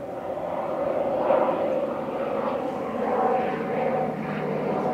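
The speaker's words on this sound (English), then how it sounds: "I'm gonna try to get this airplane." An airplane passes overhead in a backyard, a continuous broad engine roar that swells gently and fades, fairly loud and steady throughout with no talking.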